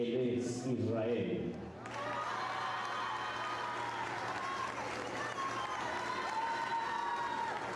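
A crowd applauds and cheers for a choreographer named Aldo at a quinceañera party, with a loud voice over a speaker system at first, then sustained cheering and clapping with whoops under continuing chatter.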